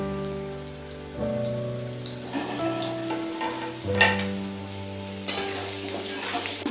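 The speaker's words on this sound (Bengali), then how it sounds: "জিরেটা দিয়ে এবার আমি আলুগুলোকে নুন হলুদ দিয়ে ভেজে নেব।" Potatoes frying in hot oil with cumin seeds, salt and turmeric, giving a steady close sizzle with spattering crackles and a few louder pops, under a sustained tonal hum.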